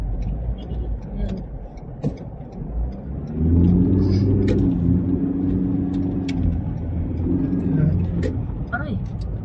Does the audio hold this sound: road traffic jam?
yes